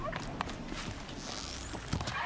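A horse in the video game Horizon Zero Dawn gives a few soft hoof clops and stirrings over a steady game backdrop of ambient noise.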